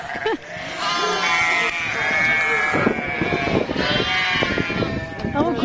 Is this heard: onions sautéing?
no